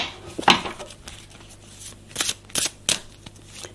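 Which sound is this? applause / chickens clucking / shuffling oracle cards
shuffling oracle cards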